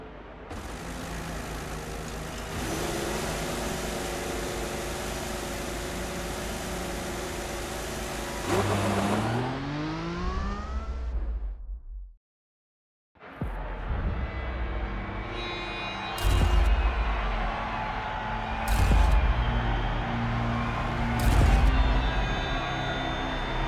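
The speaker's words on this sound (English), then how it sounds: "So here we are in Monza, driving as Fernando Alonso in a Ferrari" Ferrari Formula One car engine in the F1 2014 video game at the Monza race start, a loud sustained high-pitched whine with rising revs, a brief cut to silence, then repeated sharp revving bursts.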